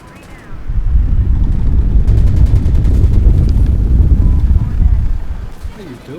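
Gunfire from the video game Insurgency Sandstorm, a loud sustained burst of rapid shots and booming blasts lasting several seconds, then fading, with players talking around it.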